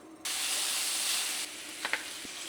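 Pork belly drops into hot fish sauce caramel for Vietnamese braised pork, bursting into a loud, steady sizzle that holds for about a second before easing to a softer hiss, with a couple of faint clinks near the end.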